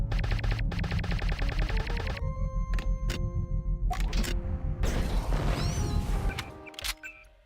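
Sustained rapid automatic gunfire in Deus Ex, a loud close rattle lasting a couple of seconds, followed by scattered single shots, clanks and a brief squealing creature noise before fading.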